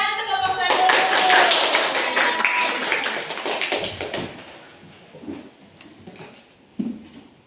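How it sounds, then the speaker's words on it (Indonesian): A classroom claps for a student group with a brisk burst of hand claps and some voices. It dies down into murmuring and a couple of isolated taps. "Tepuk tangan untuk kelompok 1."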